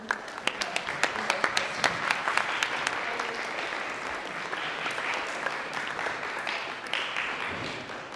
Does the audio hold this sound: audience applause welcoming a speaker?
yes